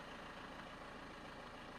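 A car engine runs right after an oil change, a faint, steady low hum with an even mechanical texture and no change in speed, heard alone without talk.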